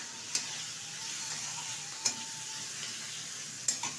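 Mourala fish curry sizzles softly in a pan as a utensil stirs it, with a quiet steady fry and a few sharp scraping taps against the pan, no voices.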